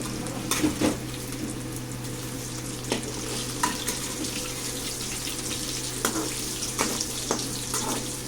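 Two masala-coated fish pieces fry in a pan with a continuous close sizzle, sharp spits and crackles breaking through at irregular moments over a low steady hum.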